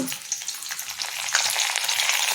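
Chana dal frying in hot tempering oil, a steady close hiss and crackle with light stirring scrapes all through.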